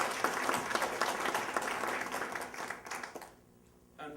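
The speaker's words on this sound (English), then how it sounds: "we can please give them a round of applause" Audience applause for speakers leaving a stage, a dense burst of steady clapping for about three seconds that thins out abruptly, with a short flurry returning at the end.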